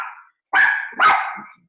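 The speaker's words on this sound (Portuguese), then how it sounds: "minha cachorra latindo, viu?" A female dog at home gives two loud, close barks about half a second apart, each with a short trailing tail, after a fainter whine at the start.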